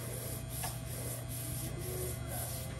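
A steady, close, dry rubbing as scratch art paper is rubbed down on a table surface, continuous with faint periodic strokes and no talk.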